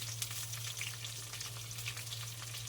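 Onions fry for fish curry in a pan with a steady, soft, crackling sizzle and a low hum underneath.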